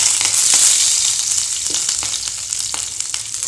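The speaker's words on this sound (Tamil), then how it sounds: "எண்ணெய் காஞ்சதும் அதில் கடுகு சேர்த்துடலாம். கடுகு பொரிஞ்சதும் கருவேப்பிலை," Mustard seeds crackle and pop in hot oil, a dense bright sizzle with scattered sharp spits throughout, close and steady, with no voices.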